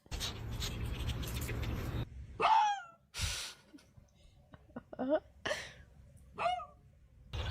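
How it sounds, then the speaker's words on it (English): A dog gives a series of short yelping barks and whines, several distinct bursts spaced over a few seconds after a stretch of steady background noise, fairly close. "Because it is a fucking dog."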